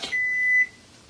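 Kitchen timer beeping after a one-minute simmer of blueberry sugar cream pie filling: a single steady electronic tone lasting about half a second, clear and close, with no talk.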